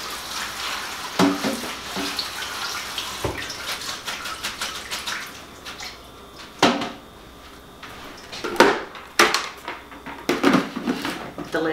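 Salad greens are rinsed under a running kitchen tap, with water splashing and hissing in uneven bursts, broken by a few sharp clunks and knocks that sound like a salad spinner or containers being handled nearby.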